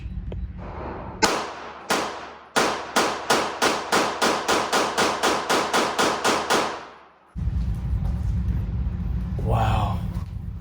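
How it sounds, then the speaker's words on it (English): A SIG Sauer P320 X-5 Legion handgun fired in a rapid string of about twenty sharp, loud shots at a steady rhythm, followed by a burst of noisy wind or rustle near the end. "SIG Sauer P320 X-5 Legion. What a hit. Great shooting gun."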